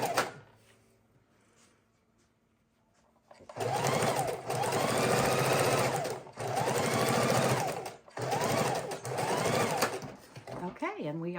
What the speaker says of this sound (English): go ahead and stitch that down real quick